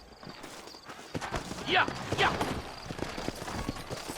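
Horse hooves clip-clop in the Wild West game Red Dead Redemption, a steady walking rhythm under a man's spoken lines and a brief reply.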